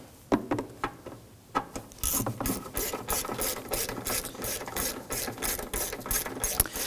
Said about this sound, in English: go ahead and pop our ratchet onto there